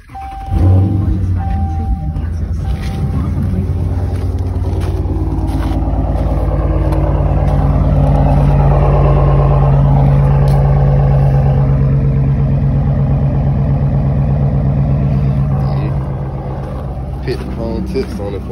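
A loud, deep all-wheel-drive Dodge Charger Hemi engine rumbles with a raw, straight-piped exhaust note, holding steady and swelling slightly before easing off near the end.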